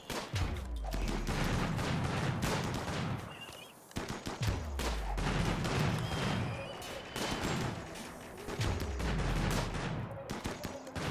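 Units in a shallow-water map of a strategy video game fire their weapons, repeated bursts of loud gunfire and booming shots in rapid volleys with brief lulls between.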